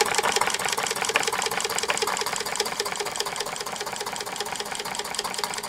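A Mamod SP8 "James Watt" model stationary steam engine runs steadily, giving a continuous fast rhythmic chuffing and mechanical clatter at close range, with no voices.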